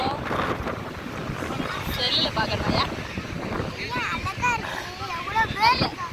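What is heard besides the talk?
strong wind at Tiruchendur beach blowing sand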